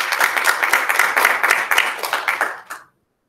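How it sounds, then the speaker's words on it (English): Audience applause at a 2020 Education Week teacher awards event, a steady wash of many hands clapping for about three seconds before quickly dying away. "Please join me in applauding their efforts."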